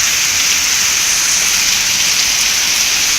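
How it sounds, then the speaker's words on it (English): Heavy rain pours in a dense, steady roar, loud and close throughout with no break or talk. "This rain is massive."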